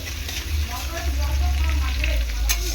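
Chopped onions sizzling and frying in a pan as the first step of a spicy Bengali chicken kosha, a steady close crackle with occasional stirring scrapes.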